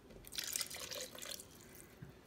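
Water poured from a spoon into a blender with other avocado sauce ingredients for spicy shrimp tacos, a soft trickling and dripping splash that is fairly faint, with no talking.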